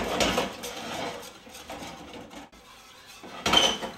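A spoon scrapes burnt roux from the side of a gumbo pot in bursts of metallic rubbing and clatter, moderately close, with quieter pauses between strokes and no talking.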